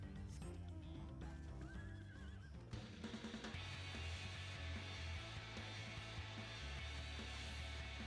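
A horse whinnies and neighs over game music in Final Fantasy XIV: Dawntrail, with a few clip-clop hoofbeats mixed in; no one speaks.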